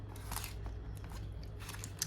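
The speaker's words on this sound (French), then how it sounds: "Et je froisse les billets, mon Dieu." Paper banknotes are crumpled by hand close by in soft, irregular bursts of crinkling and crackling over a quiet, low background hum.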